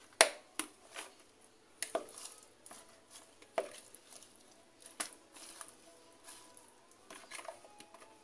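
Ingredients for a pepes filling of shredded pindang tuna with bay leaves, basil, lemongrass and scallions being stirred together in a bowl, giving soft scattered squishes, pats and light utensil taps, fairly quiet and irregular, with no talking.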